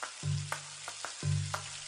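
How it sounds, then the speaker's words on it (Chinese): Grilled fish on an iron plate sizzles with dripping oil, a faint crackling hiss broken by two low humming bursts and a few sharp ticks, with no voices. "我这条烤的鱼啊，上面还在滋滋的冒着油"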